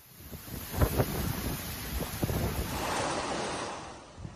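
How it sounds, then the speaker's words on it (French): Strong wind roars and gusts continuously through the streets of Belgrade, Serbia, with broad rushing noise and a few low buffeting thumps, like a storm blowing outdoors; rain is not distinctly audible. "vent violent et pluie balayent les rues de la capitale, Belgrade"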